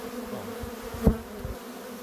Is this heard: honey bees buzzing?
yes